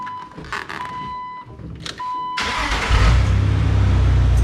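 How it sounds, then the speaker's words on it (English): A Jeep TJ Wrangler with a new exhaust and fresh catalytic converters: a few short electronic chimes, then the engine cranks and catches and settles into a loud, steady, rumbling idle close by. "I'm gonna start the Jeep, let it run for a little bit, burn off that layer of grease on the new exhaust"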